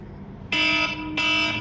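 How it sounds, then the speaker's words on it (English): An electronic alarm sounds in two loud, steady buzzing tones, each lasting about half a second with a short gap between, over faint room noise. "That was my alarm."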